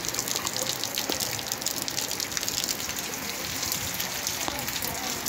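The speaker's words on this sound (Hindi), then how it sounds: "तो दोस्तों आप देख सकते हैं कि फिर से बारिश बरसना शुरू हो चुकी है।" Steady rain falls outdoors under a cloudy sky, with water starting to run off rooftops; a continuous close hiss of rainfall with a few sharper drips.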